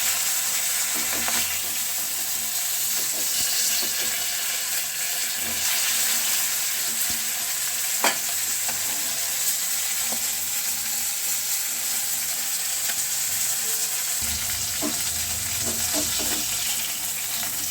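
Fish fry in hot oil in a home kitchen, a continuous crackling sizzle at close range with occasional sharper spits and faint clinks of utensils, while water seems to run briefly near the end.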